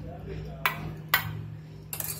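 Metal idli stand molds clink sharply against each other three times as ghee is spread on them, each tap brief and bright over a quiet low hum.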